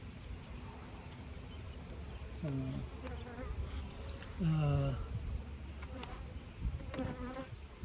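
Honeybees buzz in a dense, steady drone around a swarm hive during an outdoor hive check in Brownsburg, with a few brief tonal calls rising over the hum.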